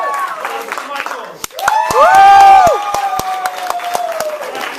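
A live improv comedy crowd claps, whoops and cheers, with scattered sharp claps and a swell of loud vocal cheering in the middle before settling back to ongoing applause.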